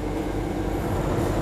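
A steady low rumble of the Argo Sindoro night train from Semarang to Jakarta heard from inside the carriage, constant and fairly loud with no voices.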